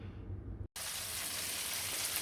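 Flour-coated fish fries in a pan with a steady, dense sizzle. A brief cut interrupts it before the crackling resumes loud and continuous.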